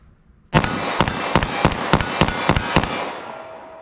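Rapid 9mm pistol fire with NYPD-style Gold Dot duty ammunition, about nine sharp, loud shots in quick even succession, fired outdoors at a ballistic gel target with a short ringing tail after the last shot.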